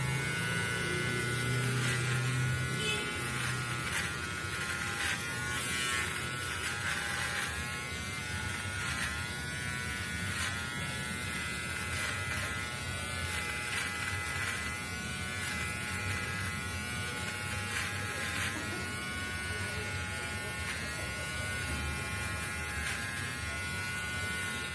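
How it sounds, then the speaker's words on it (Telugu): An electric beard trimmer set to level 3 runs continuously through a beard, a steady close buzzing whir that holds at a constant pitch and level from start to finish, with no talk. "ఈ లెవెల్ 3 పెట్టిన తర్వాత మనకి బియర్డ్ ఎలా షేవ్ అవుతుందో మనం ఒకసారి చెక్ చేద్దాం"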